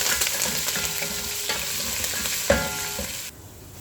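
Cumin, dried red chillies, green chillies and curry leaves frying in hot oil, a loud close crackling sizzle with a couple of stirring knocks, cutting off near the end.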